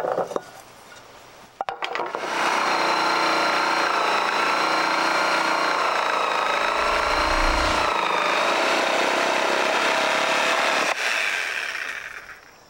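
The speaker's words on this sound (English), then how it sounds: "I'm gonna use my Sawzall to do this." A Sawzall reciprocating saw cuts rounded corners on a redwood 2x6 garden bench, giving one sustained, close, buzzing rasp of about nine seconds after a brief start, then stopping.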